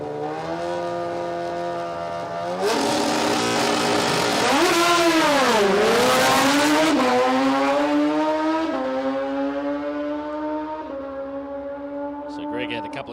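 A drag racing run at Palmyra Dragway during test and tune: a loud engine drones steadily, then surges and climbs in pitch as the vehicle launches, and the roar fades away down the strip while a commentator talks over it.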